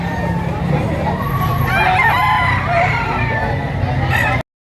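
At a gamecock auction market, a rooster crows several times up close, and the crowing and clucking of other fowl mix with the hubbub of a crowd and with people talking.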